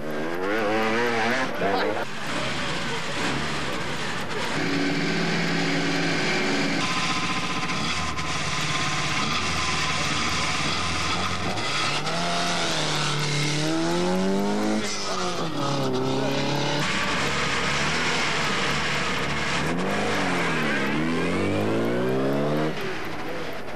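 An ATC three-wheeler labouring past on the 1985 Paris-Dakar rally, engine note rising and falling through repeated revving sweeps alongside other motors, loud and continuous, with a voice talking over parts of it.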